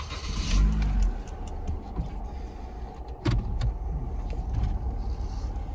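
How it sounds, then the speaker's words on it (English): A 2011 Toyota Ractis Welcab starts up with a brief whirr, then the engine settles into a steady, low idle heard from close range. "I'll just start up the car and put it into drive"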